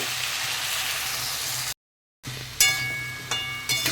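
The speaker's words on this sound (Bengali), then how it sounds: "পরে দিয়ে দিলাম আলুটা আলুটা একটু ভাজতে দেব" Potatoes fry in a pan with a steady close sizzle, cut off by a brief gap of silence, then resume with louder crackles and spits as the potatoes settle into the hot oil.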